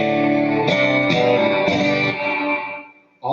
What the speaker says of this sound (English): All of that reverb that you're hearing is coming out of the guitar without it being plugged into anything.